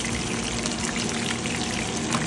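Water poured into a cooking pot holding garlic, onion, tomato and okra, a steady splashing stream that runs continuously and fairly close.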